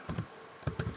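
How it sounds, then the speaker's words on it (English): A few quick keystrokes on a computer keyboard while entering text in Microsoft Word, close and fairly quiet, arriving in two short clusters separated by a brief pause. "you press the space button and you type your name"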